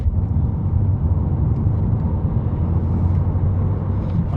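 A car engine drones in a steady, low rumble while the freshly serviced car is driven across a sodden field, with no talking over it.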